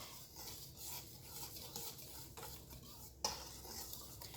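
A spoon stirs sugar and salt into a dry flour mix in a bowl for Korean hotteok dough, making soft repeated scraping and light clinks against the bowl. One sharper clink lands near the end. It is quiet and close, with no talking.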